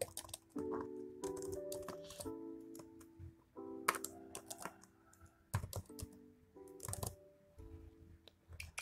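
An email address typed on a laptop keyboard: close, irregular bursts of key clicks and taps with short pauses between groups, no talking.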